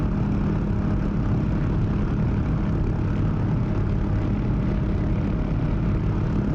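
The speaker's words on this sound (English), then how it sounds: "This is why we're doing this in the helicopter, guys, because we can actually get low, slow, and actually hover right over this thing" A helicopter in the DCS flight simulator flying low and hovering, giving a loud, steady, dense rotor and engine roar that fills the whole stretch without letup, with no talking over it.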